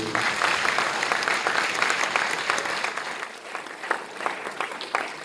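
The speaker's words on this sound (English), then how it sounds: "Ladies and gentlemen, a big round of applause for Dr. van der Putten." At an awards ceremony for a boys' final, the audience gives a warm round of applause, dense clapping from many hands that gradually thins, with a few individual claps standing out near the end.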